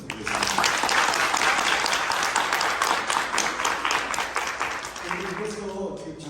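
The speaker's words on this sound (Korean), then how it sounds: "따뜻한 말씀해주신 전현지 작가님께 박수 한번 부탁드리겠습니다" Audience applause for author Jeon Hyeon-ji at a book talk, a steady dense wash of clapping that runs for about six seconds and thins slightly near the end, with faint voices underneath.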